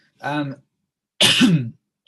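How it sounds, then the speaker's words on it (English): Two short, rough coughs separated by a pause of under a second, close and fairly loud, with no talking around them. "I have a bad cough"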